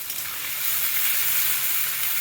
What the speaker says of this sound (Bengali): পেঁয়াজটা দিয়ে দিলাম। এবারে ভালো করে ভেজে নেব।